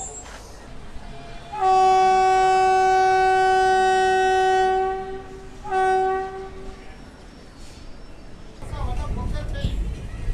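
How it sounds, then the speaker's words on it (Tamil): A Palakkad–Tiruchendur train pulls in on the neighbouring track, sounding a loud, sustained horn blast followed by a shorter second blast, then rumbling wheels and rail noise rise as it arrives, with voices talking in the background. "பக்கத்தில் ஒரு ட்ரெயின் வந்து அரைவாக இருக்குது."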